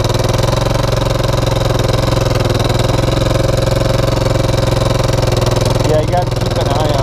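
A Honda TRX400 4x4 ATV engine runs steadily and loudly nearby, a continuous low mechanical drone with a little clatter on top, holding even for the whole stretch with no breaks.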